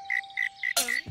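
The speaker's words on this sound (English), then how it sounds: "A cricket." A cricket gives several close chirps at a regular pace, and a louder, broadband noise cuts in near the end, with no one speaking.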